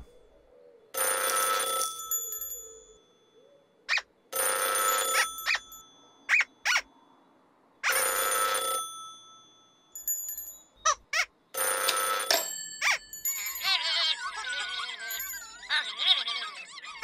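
An emergency telephone rings in repeated bell bursts, each about a second long with short pauses between, loud and close, followed by a squeaky, warbling cartoonish effect at the end.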